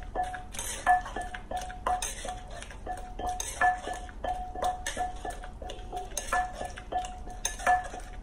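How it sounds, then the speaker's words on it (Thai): Mackerel dip with spring onion and coriander is pounded and mixed in a mortar, giving a steady run of close, rhythmic knocks and clinks, each one short and sharp, with no talk over them. "โขลกคลุกเคล้าให้เข้ากัน"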